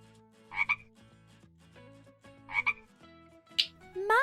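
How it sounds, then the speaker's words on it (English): A frog croaks in short, rough bursts, two paired calls followed by a higher chirp, close and fairly clear against a quiet background. "frog"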